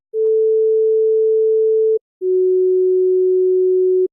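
Two steady sine test tones for pitch comparison, each lasting about two seconds with a brief gap between them. The second tone sits slightly lower than the first. Both are loud and clean over silence.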